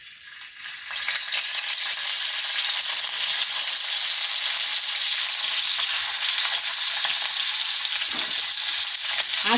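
Steady loud sizzling of oil on a hot tawa as small bowls sit in it over low heat, a continuous bright frying hiss with no voices.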